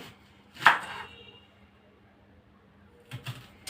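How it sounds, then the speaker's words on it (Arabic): A knife chops through onion for a homemade smash burger: one sharp crisp cut, a quiet pause, then a short cluster of two or three quicker chops near the end, heard close up in a quiet kitchen. "نقطع بقى البصل"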